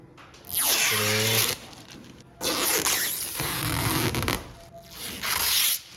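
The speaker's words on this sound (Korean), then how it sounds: "그래서 이제 비닐을 뜯을 거예요" Protective vinyl film is peeled from a newly replaced high-gloss door molding on an Avante CN7 N Line, with three long, close tearing rips separated by brief pauses.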